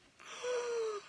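An inserted gasp sound effect: a single sharp, breathy intake that rises and holds for most of a second, clear and close, with no talk.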